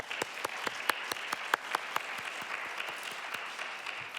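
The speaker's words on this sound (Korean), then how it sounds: "우리 하나님 앞에 영광의 박수 올려드리겠습니다" A church congregation at a youth worship service claps in a steady, fairly fast rhythm of sharp, evenly spaced hand claps, close and unified, continuing for several seconds without voices.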